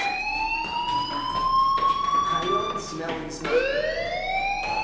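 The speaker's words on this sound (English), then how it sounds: "do you hear that fire alarm?" A loud wailing fire alarm in the video game Life Is Strange rises and sweeps continuously, restarting its climb partway through, with faint voices underneath.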